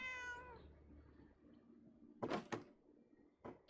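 A cat gives one faint, drawn-out meow, followed after a pause by a few soft thumps and clatters like a door or cupboard.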